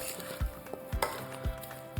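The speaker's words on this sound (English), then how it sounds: "Give our apples one more stir." Apple pie filling being stirred in a pot: a few soft scraping and clinking spoon strokes against the pot at a slow, steady rhythm, close by, with a faint background hiss.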